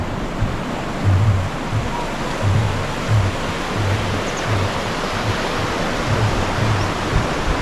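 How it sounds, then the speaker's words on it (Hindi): Steady broadband rush of river water flowing below a wooden footbridge near Manthoka waterfall in Skardu, continuous and fairly loud with no talking over it. "मैं आपको दिखा रहा हूँ, पानी बह रहा है"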